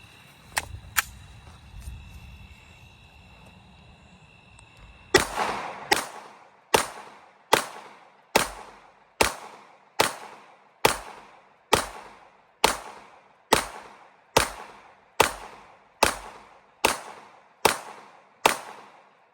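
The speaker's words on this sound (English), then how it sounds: "here's some nighttime shooting with the Echelon and the Harbor Freight Light." Rifle fire at night from an Echelon carrying a Harbor Freight Braun tactical rail light: two early shots, then a steady string of about sixteen loud, sharp reports roughly half a second apart, each with a short decay and no talking.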